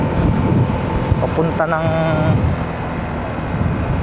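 Strong wind roaring steadily against the microphone on a misty motorcycle ride along a highland highway, a continuous loud rush with someone briefly speaking over it.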